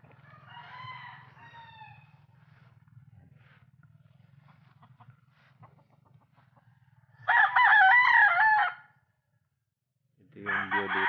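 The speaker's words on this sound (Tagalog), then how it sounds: "Tsaka marami ditong manok si Papa. May mini farm siya dito ng mga manok." Chickens on a small backyard farm cluck softly at first over a low steady hum, then a rooster crows loudly twice, the second crow cut short.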